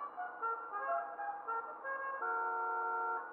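In GTA 5 Online, a car horn is tested and plays a steady musical tone sequence that holds at constant loudness, heard alone without talk.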